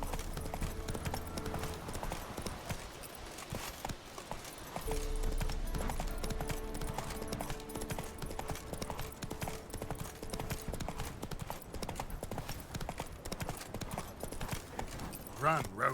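Geralt's horse Roach galloping in The Witcher 3, a steady drumming of hooves running throughout under game music, with a person talking over it.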